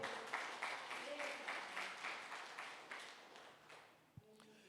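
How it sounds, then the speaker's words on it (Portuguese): A church congregation applauds after a sermon passage, soft and distant clapping that slowly fades, with a voice briefly audible near the end. "Aplauda o Senhor por esta palavra."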